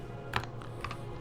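Several quick keystrokes on a computer keyboard while typing Linux terminal commands in a virtual machine, soft clicks in two small clusters over a low room hum.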